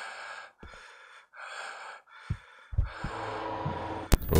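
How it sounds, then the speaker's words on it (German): The player character in the horror video game Traumada breathes heavily, with several ragged gasping breaths separated by short pauses and a few sharp thuds near the end. "hör auf, so schwer zu atmen"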